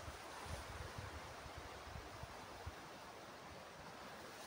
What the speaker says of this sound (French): Ah, vous entendez le vent, hein.